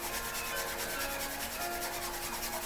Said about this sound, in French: on frotte bien les mains